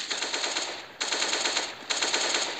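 Video game gunfire in three rapid automatic bursts, each a fast, rattling string of loud, close shots separated by brief pauses, with no speech.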